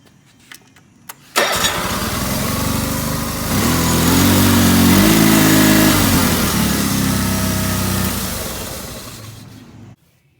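A Honda HT3813 racing lawn mower engine cranks with a few clicks, then catches and runs loudly up close, rising in revs to a steady roar before tapering off and cutting out abruptly.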